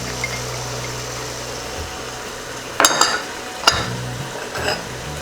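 Garam masala, coriander and chili powders frying in a pan for beef biryani, stirred with a utensil: soft sizzling underneath a few sharp scraping clanks against the pan, fairly close.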